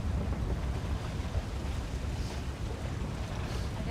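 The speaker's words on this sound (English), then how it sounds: "Rocky rolly waves." A sailboat rolls through choppy waves on the Salish Sea, with a constant rushing wash of water and wind buffeting the microphone, loud and steady with no clear voices.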